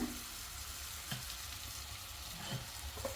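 Mutton dropped into softened tomatoes in a pan for Telangana mutton curry gives a low steady sizzle with a few soft stirring thumps, fairly quiet and without voices.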